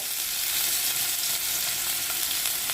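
Fish coated in red chili paste frying in hot oil, a steady dense sizzle and crackle that holds at an even level throughout with no talking.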